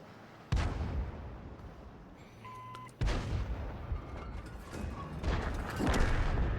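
Artillery fire in World of Tanks, from a Crusader self-propelled gun: two sharp, booming shots about two and a half seconds apart, each followed by a decaying rumble, with fainter mechanical clicks between them.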